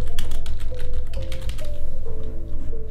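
Text is typed on a computer keyboard, a close, loud burst of rapid key clicks that slows into scattered taps over a steady low hum.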